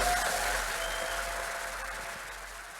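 A church congregation applauding together, a steady wash of many hands clapping that gradually fades, with no voices on top.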